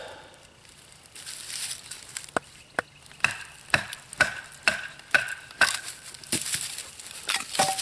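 A WC Knives prototype survival knife is batoned through a piece of oak, with a series of sharp, close wooden knocks striking in an uneven rhythm of about a dozen blows, some followed by splitting crackles.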